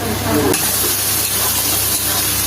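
Torn chillies fry in hot oil in a pan, a steady, dense sizzle and hiss that runs unbroken throughout over a low background hum.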